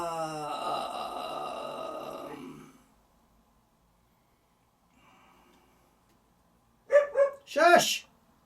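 During a Cthulhu Wars board game session, a dog lets out three short, close barks in quick succession near the end. Before them come a stretch of sustained tonal sound and then near silence.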